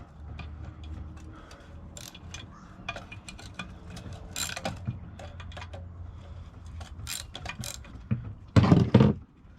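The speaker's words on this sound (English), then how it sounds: "just taking these screws out." A screwdriver takes screws out of a brass circulation pump, producing close, irregular ratcheting clicks and metallic ticks that end in a louder clatter.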